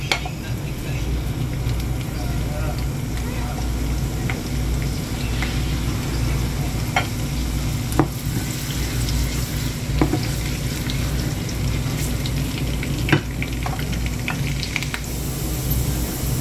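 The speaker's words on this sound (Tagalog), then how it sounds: "So, ayan guys, magisa na tayo ng bawang." Garlic sautés in a pan with a continuous close sizzle, punctuated by occasional sharp clinks and scrapes of stirring.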